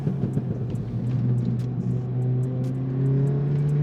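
A VW Golf, either the 420 bhp Golf R or the 250 bhp Golf TDI, driven hard on a race track, its engine droning steadily and rising in pitch as it accelerates, loud and close with no talk over it.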